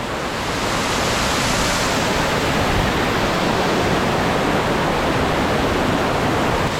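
Dunn's River waterfall in Ocho Rios, Jamaica, pours as a loud, steady, broadband roar of rushing water, close and unbroken, with no voices over it.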